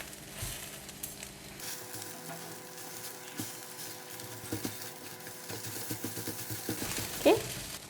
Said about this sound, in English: I'm going to use a spatula to cut the egg into bite size